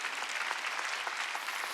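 A church congregation at a Wednesday worship service breaks into steady, energetic clapping. The many hands blend into a dense, continuous burst that lasts under two seconds.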